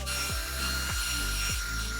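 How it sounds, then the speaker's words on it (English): A small handheld mini fan blows steadily during a makeup session, giving a constant airy whir with a thin motor whine. Soft low bumps recur about every half second, with no talking. "I'm gonna go back in with my mini fan"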